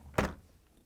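The left side door of an LG/Kenmore refrigerator swings open with a single soft, close thud that fades quickly into quiet.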